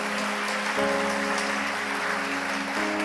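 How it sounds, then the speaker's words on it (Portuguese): Congregation applause at a church service: dense, steady clapping from many hands fills the room, with sustained tonal music underneath throughout. "É para aplaudir? Aplauda"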